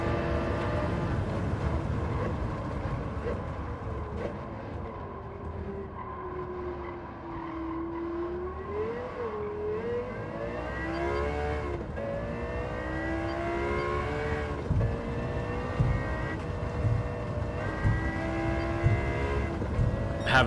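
A Lexus LFA engine in a racing game, droning continuously with pitch rising and falling through the gears, moderately loud and close, with rumbling road or track noise underneath.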